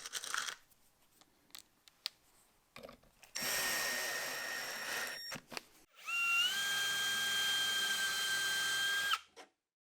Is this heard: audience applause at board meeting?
no